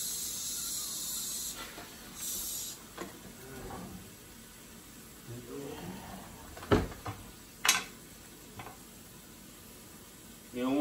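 Shrimp cooking in a cast iron pan: a faint steady sizzle and hiss throughout, with a few scrapes and clunks of utensils and pan, and people talking quietly in the background.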